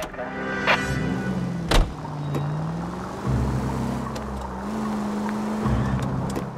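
Car engine of a period sedan driving through city streets in L.A. Noire, a steady mid-level hum with rising and falling revs as gears shift, close and continuous.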